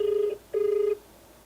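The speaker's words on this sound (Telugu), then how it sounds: "రింగ్ అవుతుంది సార్." An outgoing phone call rings back with two short, clean ringing tones separated by a brief gap, quiet and isolated.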